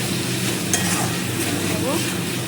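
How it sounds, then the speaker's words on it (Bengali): Diced capsicum stirred in a hot pan for paneer bhurji, a loud steady sizzle with brief scraping strokes of the spatula, close up and without talk. "ছোটো ছোটো করে ক্যাপসিকামগুলো দিয়ে দিলাম। ভালো করে একটুখানি নাড়াচাড়া করে"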